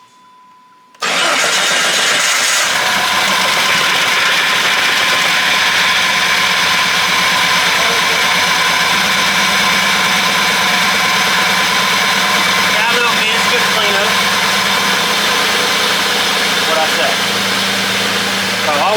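A Jeep WJ's swapped-in 4.0 engine cranks briefly, catches after about a second and settles into a steady, loud idle that runs on for the rest of the clip, with a faint slight miss.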